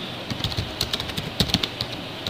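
Someone types text into a computer keyboard while entering freehand annotations, producing rapid, irregular key clicks close to the microphone with small clusters and brief pauses, with no talking.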